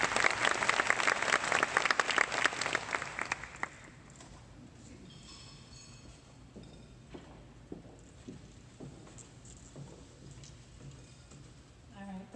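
An audience bursts into loud applause welcoming a speaker at a scholarship event, dense clapping for about four seconds before fading into scattered footsteps and faint room noise.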